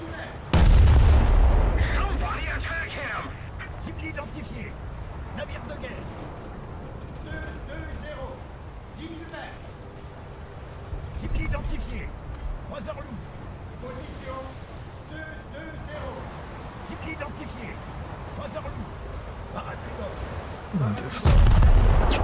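Battleship naval guns firing in an online naval warfare game, heavy booming salvos at the start and end with scattered distant shots and rumbling between, under a voice talking over the battle.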